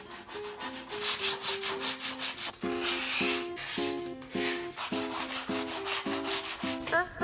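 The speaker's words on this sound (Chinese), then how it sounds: "现在用这个砂纸啊，把它磨光滑" Sandpaper rubbed back and forth over a rough, pitted homemade wooden wine table, giving loud, steady rasping strokes in a regular rhythm, close up with no speech.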